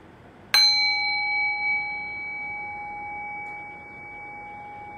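A meditation bell strikes once, a sharp metallic ding with clear sustained tones that ring on and slowly fade over several seconds in a quiet room.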